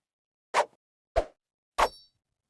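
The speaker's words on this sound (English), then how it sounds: "I layered it with 2 knife swings." Three quick, punchy swishes of layered knife-swing foley with short impacts, evenly spaced about half a second apart, close and dry; the last has a faint metallic ring.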